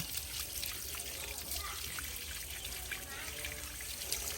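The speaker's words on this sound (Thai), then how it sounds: "ใช้น้ำฉีดล้างเข้าไปอย่างนี้เลยนะคะ" Water sprayed from a hose to wash caladium bulbs, a steady hissing trickle and splash that runs continuously at moderate level throughout.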